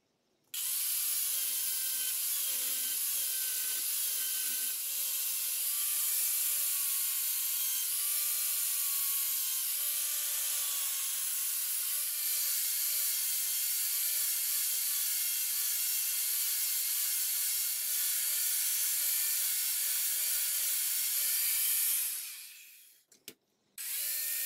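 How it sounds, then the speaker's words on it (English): An angle grinder takes down excess weld on a bayonet lug for a Kar 98 rifle, running loud and steady for about twenty seconds before winding down and stopping. "Next, I'll grind down all of the excess weld and cut off the extra material."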